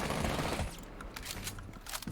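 Rapid SMG-11 submachine gun fire in Rainbow Six Siege, a loud dense burst at the start that thins into scattered sharp shots and trailing reports, with no talking.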